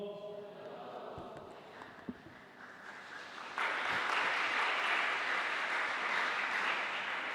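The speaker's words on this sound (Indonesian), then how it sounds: "Sekali lagi Kotong berikan tepuk tangan dulu." A church congregation bursts into applause, a dense burst of clapping that starts abruptly and carries on evenly at moderate volume after a stretch of quieter talk and room noise.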